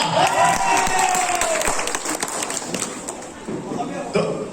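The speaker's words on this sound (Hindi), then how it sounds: "जोरदार तालियां" An audience at an Assamese event on honouring one's wife breaks into loud applause with cheering, a dense crowd clapping mixed with voices and chatter throughout.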